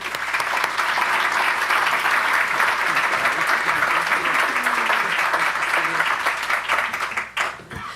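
An audience at a conference keynote applauds State Controller Betty Yee, steady sustained clapping from a large crowd that fades out near the end.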